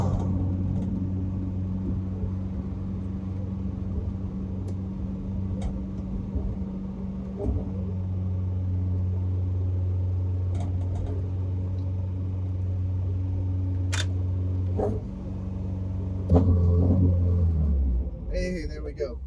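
Saab Sonett engine with a stuck choke, a low rough idle rumble that lifts with short throttle blips and settles again, close by, with a voice talking over it.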